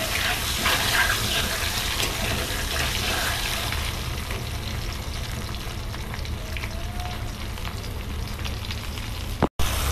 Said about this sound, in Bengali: নুন আর হলুদ দিয়ে দেবো, দিয়ে ডিমগুলো একা একা ভেজে নেবো।